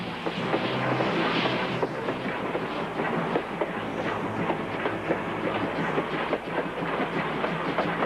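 A refugee train from the Korean War era rolls along the rails with a loud, continuous rumble and steady clickety-clack, close and unbroken throughout with no voices.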